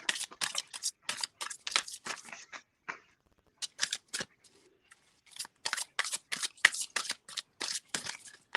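Tarot cards are shuffled in quick riffling bursts, each a crisp rapid flutter of card edges, repeated many times with short pauses between, close and fairly quiet without speech.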